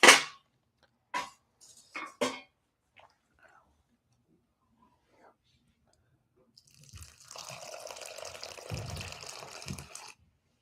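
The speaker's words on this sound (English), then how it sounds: "I'm just adding some water. I've got this big glass pitcher of it." Water pours from a big glass pitcher for several seconds in a steady splashing stream. A few sharp glassy clinks and knocks come first.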